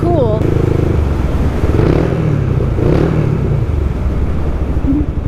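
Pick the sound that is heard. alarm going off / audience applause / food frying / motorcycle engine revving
motorcycle engine revving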